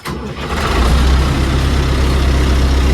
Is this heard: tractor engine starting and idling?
yes